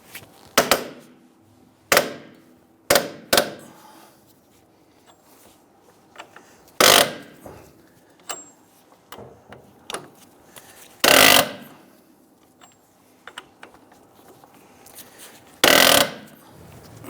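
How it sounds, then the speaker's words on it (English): Sharp metallic cracks and clunks from a breaker bar loosening a strut bolt on a 2011-2021 Jeep Grand Cherokee front strut assembly, roughly eight separate hits spread unevenly across the stretch, close and loud with quiet gaps between them. "We're gonna have to use our breaker bar to go ahead and assist us in taking this"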